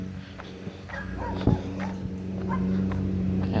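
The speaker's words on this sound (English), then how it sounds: "Oh, there's another dog barking at me." A dog barks several times at someone walking past outdoors, with short, fairly close yaps and whines over a steady low background hum.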